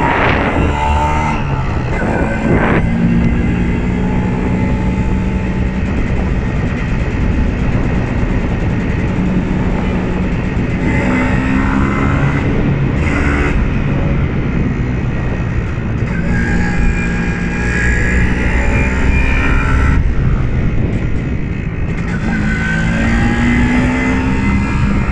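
An MZ ETZ 251 motorcycle engine drones steadily while riding, its pitch rising and falling through gear changes over a long stretch with no talking.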